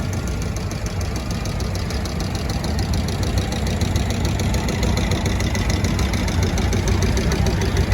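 A worn vintage Fordson Major tractor engine idles with a rough, chugging low rumble at a steam fair, loud and steady throughout, with no voices.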